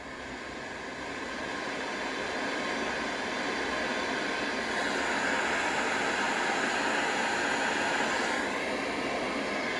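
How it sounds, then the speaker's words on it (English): An Atlas sound masking system plays steady, broad hissing white noise that holds at an even, moderate level throughout, with no other sounds. "Pink noise, or this is white noise."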